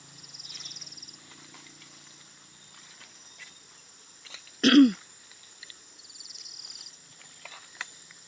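A single short cough bursts out close by on a rural farm lot among lanzones trees, standing out against a constant background of chirping crickets and insects.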